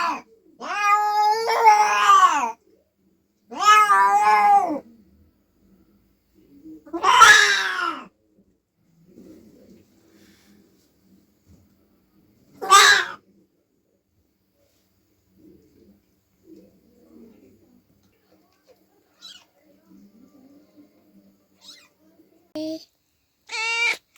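A mother cat and her newborn kittens give several loud, close meows in short bursts, then fainter, sparse little cries and rustles follow.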